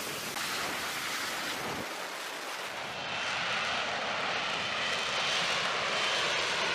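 Steady, loud roar of an F-35B stealth fighter's Pratt & Whitney F-135 engine aboard a US Navy carrier, a broad rushing jet noise that swells slightly in the second half.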